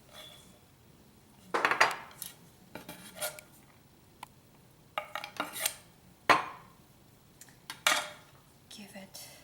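Chopped tomatoes for pico de gallo salsa are tossed in a bowl, several separate bursts of utensil clinks and scrapes against the dish, quiet between the strokes, with faint low voice in the background.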